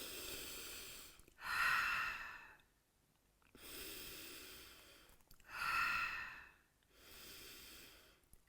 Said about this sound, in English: 3 more breaths here.